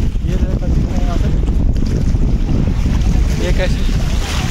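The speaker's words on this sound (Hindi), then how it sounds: "बहुत ही ठंडी हवाएं चल रही है।" Cold wind blows across the lake at Kerwa Dam in Bhopal, a steady, loud rushing roar with buffeting on the microphone and a wash like lapping water running through the whole stretch.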